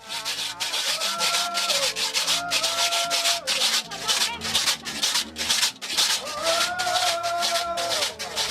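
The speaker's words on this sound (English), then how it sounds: "Consider this popular scraper from the Dominican Republic called a güira." A güira scraper made from a standard cooking oil container, from the Dominican Republic, is scraped in a steady rhythmic pattern of bright, raspy strokes, loud and close, with occasional brief tones over it.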